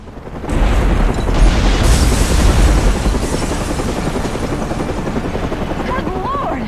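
A massive explosion at a hotel in Batman: Arkham Origins, a heavy booming blast that erupts suddenly and rumbles on, followed by a steady helicopter rotor thrum with a voice faintly underneath.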